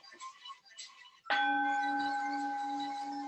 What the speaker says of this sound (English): That is one old bell from Tibet.